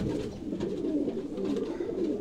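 Batera-breed pigeons from Sialkot coo in a soft, continuous, overlapping murmur, close and steady throughout with no talking.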